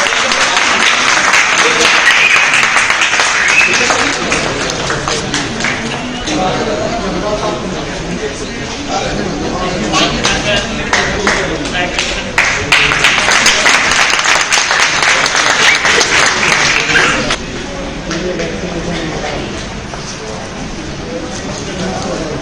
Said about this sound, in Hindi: एक बार जोरदार तालियों के साथ सबका स्वागत।